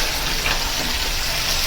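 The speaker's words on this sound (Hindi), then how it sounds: "अब ये एक एक उठा के गरम गरम घी के अंदर शामिल कर देंगे।" Masala-coated small whole fish frying in hot ghee, a steady broadband sizzle running evenly and fairly loud throughout with no voices.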